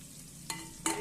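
Green chillies and onion for tempering sizzle quietly in hot oil, with two sharp bursts of louder frying and stirring as they are tossed in the pan. No one speaks.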